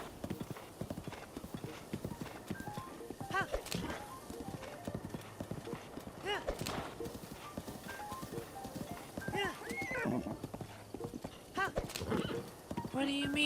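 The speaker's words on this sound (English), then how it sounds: "what the fuck are you neighing at?" In The Legend of Zelda: Breath of the Wild, a horse's hooves clip-clop steadily while it whinnies a few times, faint and mixed with ambient game sound and a person talking.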